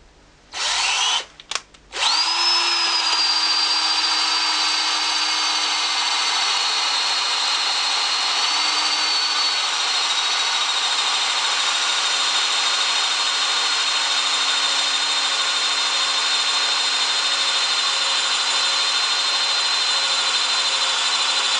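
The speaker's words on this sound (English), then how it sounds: "Change to this 20mm flat drill and drill through about 10mm to allow for the thickness of the nut and the washer." A power drill fitted with a 20mm flat wood bit bores a hole, starting with a few short stutters before settling into a loud, continuous, high whine that holds steady throughout.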